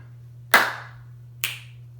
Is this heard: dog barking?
no